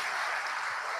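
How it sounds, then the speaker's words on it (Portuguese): Church congregation applauding a couple's golden wedding anniversary, a dense, steady wash of clapping that fills the whole short moment at close range. "Quer dar uma salva de palmas para eles?"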